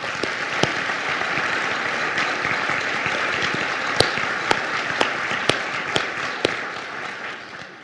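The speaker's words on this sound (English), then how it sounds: "Let's give Neely a round of applause." Audience applause at the Erie Housing Authority's 75th anniversary gala, a steady dense wash of clapping that holds for the whole stretch, with a few sharper, louder claps standing out near the end.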